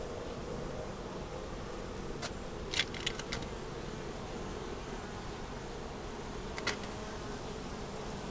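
Honey bees buzz steadily and softly on hive frames holding eggs and larvae, with a few brief sharp clicks of handling equipment over the drone.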